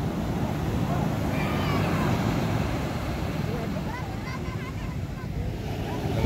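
Big open-sea waves roll one after another near wooden bangka boats, a steady washing rumble mixed with buffeting wind, while people talk over it.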